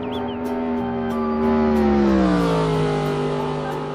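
A toy Lightning McQueen race car plays an electronic engine sound, a steady buzzy whine that swells and bends in pitch like revving, loud and close with no talk over it.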